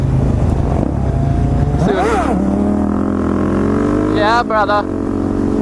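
Dirt bikes race on a track in Phoenix, with loud, close engine drone and two sharp revving sweeps as the bikes accelerate past. A voice calls out briefly over the noise.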